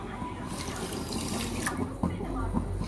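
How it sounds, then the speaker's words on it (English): Water poured into a pan of sugar to make syrup for ghee Mysore pak, a soft splashing trickle under a faint hum, brief and close, with a voice speaking in the background. "To that, half cup of water."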